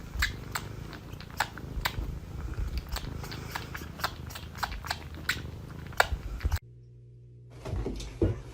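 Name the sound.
cat sucking on a person's ear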